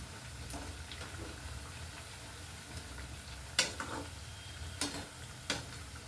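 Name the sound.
chana dal vada frying in oil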